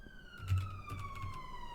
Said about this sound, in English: Well, that was a very loud siren.